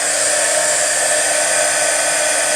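A heat tool blows hot air over a card during gilding, a loud, steady, even hiss of rushing air that holds without pause throughout.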